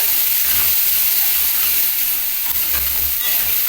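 Spices such as fennel, green chili and ginger being sautéed in a wok (kadai): a loud, steady, close sizzling hiss with no let-up and no talking.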